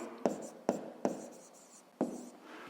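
A pen writes by hand during a fifth-grade maths exercise, with four sharp taps of pen strokes on paper and soft scratching between, close and quiet.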